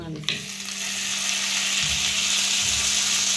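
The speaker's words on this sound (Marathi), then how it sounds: "मस्त आता जिरी मोहरी टाकून घेतली हा टाक ना फोडली मस्त आता तडका झाला" Mustard and cumin seeds crackle in hot oil for a tadka. A sharp clack is followed by a loud, continuous sizzle with a low hum beneath it.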